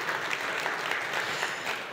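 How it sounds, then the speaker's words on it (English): Conference audience applauding steadily, a dense wash of many hands clapping at even loudness throughout, with no voices breaking through. "how about a round of applause?"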